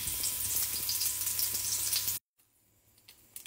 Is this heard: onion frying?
yes